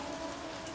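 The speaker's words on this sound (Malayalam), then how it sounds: "എന്തൊരു മഴ!" Heavy rain pours down in a dense, even hiss on surfaces, steady and constant with no voices over it.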